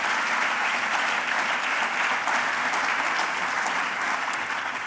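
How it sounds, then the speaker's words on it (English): Audience applause at an indoor conversation event on fighting antisemitism, a steady dense clapping from a large crowd that holds loud and even for about five seconds. "Let's give them a big round of applause"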